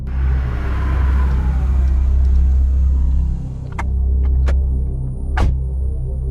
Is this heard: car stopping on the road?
yes